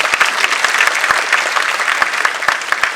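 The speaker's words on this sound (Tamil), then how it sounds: "அவருக்கு ஒரு பெரிய கைத்தட்டு வேண்டும்" Audience applause at an inauguration event honouring an award-winning author's reading: dense, steady clapping from a crowd throughout, with scattered sharper individual claps and no talking.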